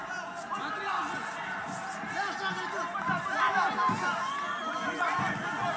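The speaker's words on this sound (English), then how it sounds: "And there goes the crowd chants again for Safari." A crowd at the Eagle FC 35 fight chants for fighter Safari, a loud, continuous arena roar of many voices with a rhythmic rise and fall, and a commentator talks over it.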